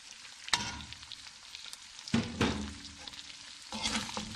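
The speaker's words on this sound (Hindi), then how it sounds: "अब ये सब मसाले हम इसमें शामिल कर देंगे, फिर इसको और फ्राई कर लेंगे" Goat meat sizzles in a pan with spices while a utensil scrapes and stirs it in three distinct bursts, with steady frying hiss between them.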